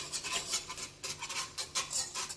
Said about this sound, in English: I'm going to give that a mix.